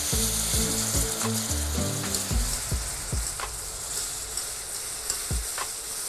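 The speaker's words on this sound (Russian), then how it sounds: "И теперь постепенно начинаем в несколько этапов добавлять молоко, каждый раз хорошо перемешивая, чтобы у нас не образовались комочки." A whisk or spoon scrapes and stirs a flour roux while milk is added in stages for a mac and cheese sauce, with a soft sizzle, rhythmic clinks against the pot and steady close-up scraping.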